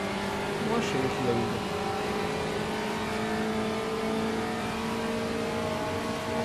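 Race car engine in the Automobilista racing game drones steadily throughout with a sustained revving tone while overtaking on a straight, accompanied by faint talk.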